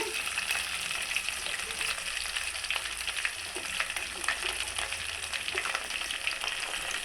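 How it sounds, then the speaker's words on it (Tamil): Curry leaves frying in hot oil give a dense, steady crackling sizzle, close and even, with fine spitting pops throughout. "கருவேப்பிலையும் நல்லா போட்டு பொரியிட்டேங்க"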